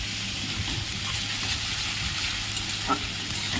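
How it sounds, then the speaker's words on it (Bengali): Onions frying in oil in a pan while being stirred, a steady, close sizzle with continuous crackle and a brief scrape near the end. "আমি তেল দিয়েছি, দিয়ে তাতে পেঁয়াজ দিয়ে নাড়াচাড়া করছি।"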